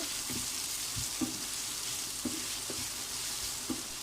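Sliced onions fry in oil in a pan for wheat dosa, a steady close sizzle with soft periodic knocks of stirring every second or so, no voices.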